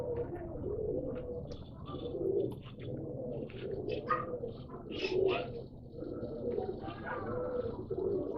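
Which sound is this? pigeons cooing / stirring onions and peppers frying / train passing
pigeons cooing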